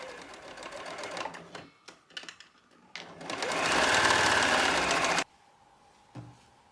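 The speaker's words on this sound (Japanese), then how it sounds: "片側の脇を縫う。" A sewing machine stitches the side seam of a child's skirt, starting with short stop-and-start bursts, then running steadily for about two seconds before halting, followed by faint handling of fabric.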